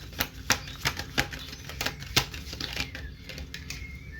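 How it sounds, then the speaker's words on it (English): A deck of playing cards shuffled by hand during a casual magic trick, giving a run of crisp, irregular riffling clicks and snaps up close over about four seconds, with no talk. "Y'all saw I'm just shuffling. I'm just going for a card to come out."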